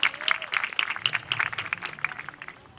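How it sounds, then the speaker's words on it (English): A small audience at a graduation ceremony claps for the MA graduates, a light, scattered round of individual hand claps that comes in close and fades over about three seconds. "round of applause to you guys"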